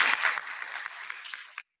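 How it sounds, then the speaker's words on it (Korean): A brisk round of audience applause greets a professor at a university academic festival, dense and steady for about a second and a half before stopping abruptly into silence. "박수 부탁드립니다"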